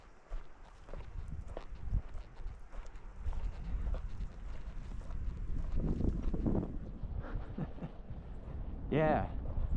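Cows moving near a trout stream make heavy, uneven hoof thuds and splashes on wet ground and in shallow water, close by, with people talking over them.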